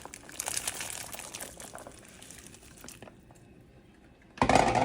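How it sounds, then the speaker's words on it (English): Rinsed hominy (maíz blanco) goes into a pot of menudo: wet sloshing and crinkly clatter that fades to quiet, then ends in a sudden louder splash. "I rinsed the hominy, or maíz blanco, and you're going to add it to your menudo."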